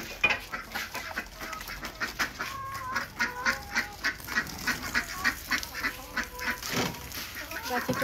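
Ducks and chickens calling in a yard, a busy run of repeated quacks and clucks at moderate distance, fairly quiet and overlapping throughout, with no voices.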